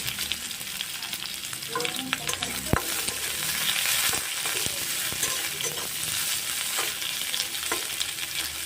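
Onions fry in a pan with a steady, hissing sizzle, while a utensil stirs and scrapes through them in irregular clacks and scrapes.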